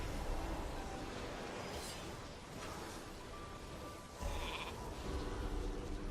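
Sheep bleating in a video game, a few short bleats over dense game sound effects and background noise.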